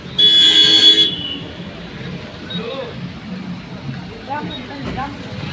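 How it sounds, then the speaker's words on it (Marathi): Busy road traffic with many vehicles passing: a loud car horn blares at the start, then a steady rumble of passing vehicles continues while someone talks over it. "हे बघा किती गाड्या जात आहेत."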